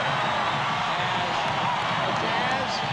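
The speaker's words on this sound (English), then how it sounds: "Sellout crowd here at the Salt Palace on their feet." Sellout basketball crowd at the Salt Palace during a Jazz home game against the Sixers, a dense steady roar of many voices filling the arena, loud and continuous throughout.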